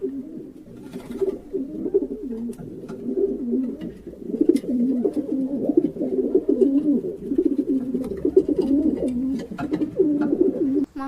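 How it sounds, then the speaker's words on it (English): Pigeons cooing continuously, low throaty rolling calls overlapping close by, with faint clicks and rustles in the background. "Pigeon says."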